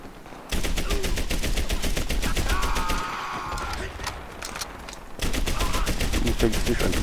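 Rapid machine gun bursts rattle loud and close in the Medal of Honor: Airborne shooter, long sustained strings of shots with a brief pause before firing resumes.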